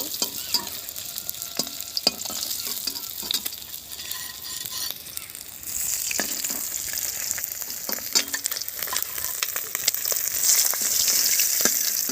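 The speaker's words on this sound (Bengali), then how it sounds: "মাছ ভাজা হয়ে যাচ্ছে" Chunks of a large snakehead fish fry in hot oil, a steady sizzle with scattered stirring clatters and spatula scrapes, growing louder and denser in the second half; no voices.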